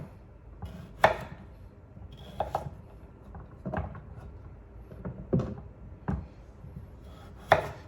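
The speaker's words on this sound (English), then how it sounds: "Then I cut them in 3 slices. Diagonal." A knife cuts vegetables into diagonal slices on a board for homemade soup, giving a series of separate sharp, close chops at uneven intervals in a quiet kitchen.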